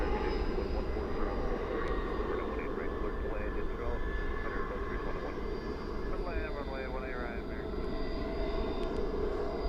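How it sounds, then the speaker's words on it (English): An airplane roars at Dallas/Fort Worth International Airport at night, a broad steady engine drone with a shifting whine, while a voice speaks faintly underneath. "I will turn up the sound and I will let the plane speak for itself."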